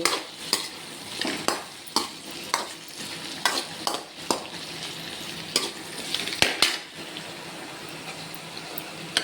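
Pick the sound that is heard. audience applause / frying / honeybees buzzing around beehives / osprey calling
frying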